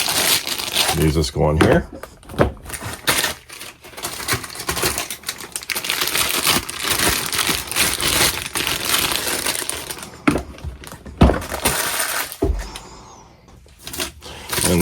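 Plastic-wrapped accessory tools for a BAUER 20V cordless 7-gallon wet/dry shop vac get unwrapped, with loud, close crinkling and rustling of plastic in irregular bursts, plus clicks and handling knocks, while someone talks briefly.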